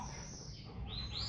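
Baby chicks peeping, a couple of thin high chirps close by, brief and fairly quiet over a low background.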